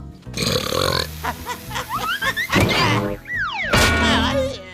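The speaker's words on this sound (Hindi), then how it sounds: "पहली बार मैं तुमसे अच्छी डकार मारती हूँ" Cartoon characters burping in a slob contest: a long, loud, resonant belch followed by a second drawn-out, wavering burp with exaggerated pitch swoops, close and comic.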